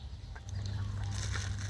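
Hens and chicks make a clutter of clucking and brief peeping calls at a farmyard feeding, fairly close over a low steady background hum, with no voices.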